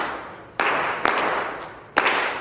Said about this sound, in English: give him a clap as he sits down